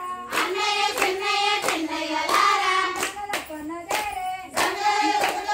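A group clap in a regular beat as they sing a Holi song in a village; sharp, evenly spaced claps ring out loudly beneath the sung melody.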